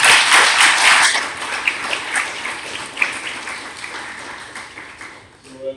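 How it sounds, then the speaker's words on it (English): Audience applause at the close of a lecture on the Libyan crisis, a loud burst of clapping that fades over several seconds, with scattered individual claps near the end. "Can I get a round of applause?"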